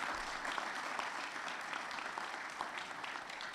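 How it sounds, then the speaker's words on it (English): Audience at a school district retirement reception applauding the standing retirees, a continuous wash of many hands clapping, even and sustained, heard at a modest distance. "Let's give them a round of applause."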